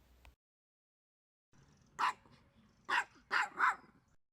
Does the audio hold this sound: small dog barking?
yes